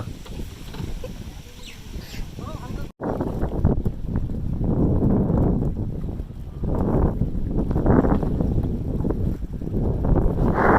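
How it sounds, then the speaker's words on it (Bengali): A boat pulls away from a river ghat, with a loud continuous engine-like rumble and heavy wind buffeting the microphone after a brief cut near the start, carrying on steadily throughout. "তো ফাইনালি আমাদের নৌকা ছেড়ে দিল পাতিবুনিয়া ঘাট থেকে"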